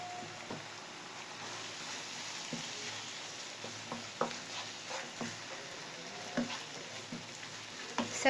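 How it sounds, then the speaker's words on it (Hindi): Minced meat keema stuffing with spices frying in a pan for stuffed capsicum, a steady close sizzle with occasional stirring scrapes and clicks, no talking. "सब चीज़ें ऐड करके हमने इसको अच्छी तरह से भूनना है"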